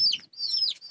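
Chickens on a home farm give brief high chirping clucks, two quick calls close by, with no talk over them.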